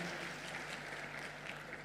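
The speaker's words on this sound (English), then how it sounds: "A round of applause to the drama team." Applause for a drama team rises from an audience at a school-style assembly, a soft, steady patter of many hands heard at a distance over a low hum.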